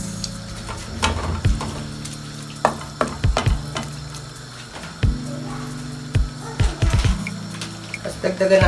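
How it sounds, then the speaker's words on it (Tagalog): Sotanghon glass noodles for spicy Thai-style pansit sizzle and crackle in a frying pan, with a low steady hiss broken by repeated sharp clatters of stirring and tossing, close by, and a voice speaking intermittently. "Natin ilagay yung ating sotanghon."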